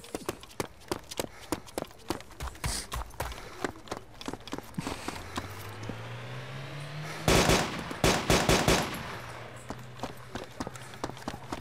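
Gunfire in Arma 2, a long run of sharp single shots and quick bursts, close and loud, with a vehicle engine droning underneath and a tight rapid volley near the end.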